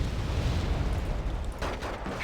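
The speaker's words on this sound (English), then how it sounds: "It's probably an airstrike." Airstrike explosion in the Wargame Red Dragon strategy game, a dense low rumbling blast that holds for about two seconds, with a brief harsher burst near the end, loud and alone.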